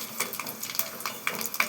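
Onions fry in oil with curry leaves, cumin and mustard seeds, giving a soft sizzle with quick, light scraping stirs in short bursts at close range.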